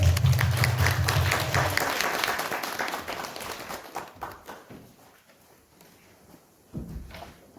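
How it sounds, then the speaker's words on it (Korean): Applause from a church congregation, loud and dense at first, then thinning into scattered individual claps as it dies away, with a low hum early on and a brief thump near the end. "이 박수로 함께 우리 환영하겠습니다."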